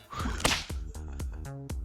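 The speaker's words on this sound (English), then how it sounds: "Macchiato cracks her whip hard, but doesn't strike anyone." A leather whip from the game Path to Nowhere cracks sharply several times in quick succession, each snap loud and close, with music-like tonal sound underneath.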